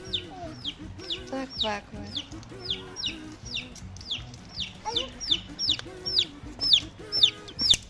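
Several baby chicks give high, rapid, repeated peeps up close, a steady run of bright chirps, while someone talks and coos softly over them throughout.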